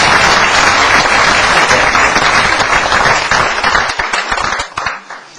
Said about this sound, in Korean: 우리 강연하신 선생님께 박수로서 감사해 주십니다